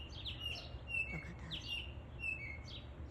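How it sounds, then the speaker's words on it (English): A robin sings and chirps in short bright repeated phrases, fairly close, over a low steady background rumble, with a brief spoken remark. "That is the sound of this robin bird."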